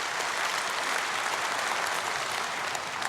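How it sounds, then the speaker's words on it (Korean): A church congregation at an early-morning prayer service applauds together, a dense, steady wash of clapping that fills the room at even loudness throughout, with no voices over it. "박수 한번 해줘"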